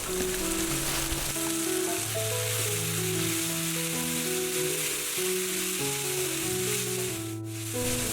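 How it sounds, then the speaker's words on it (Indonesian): Bean sprouts stir-frying with spice paste, a continuous bright sizzle that runs beneath background music for the whole stretch. "Tumis kecambah bersamaan bumbunya hingga tercampur dan tentunya udah matang"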